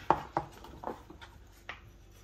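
A knife chops rhubarb for rhubarb vodka: two close, crisp chops come first, then a softer one, and after a gap a final lighter cut, all in a quiet kitchen.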